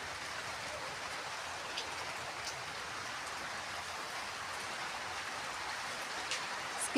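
Steady light rain falls on a rainy day, a soft, even hiss that stays faint and continuous with no voices over it.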